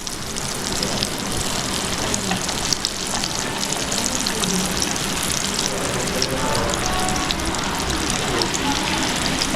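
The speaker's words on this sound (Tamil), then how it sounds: "ஸோ இது நம்ம இப்போ ஆயிலில் ஃப்ரை பண்ணி எடுக்க போகிறோம்" Potato pieces for Andhra-style Alugadda Vepudu deep-fry in hot oil, giving a steady, loud, dense crackling sizzle that continues unbroken throughout.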